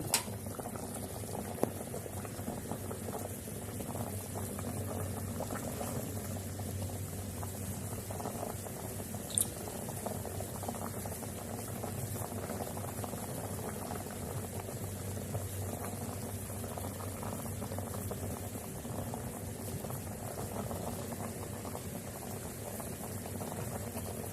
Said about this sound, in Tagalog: Yan, sobrang kulo na niya.